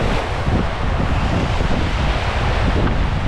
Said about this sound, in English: I was sitting on the beach and waiting for the wind to die down, and it just kept picking up.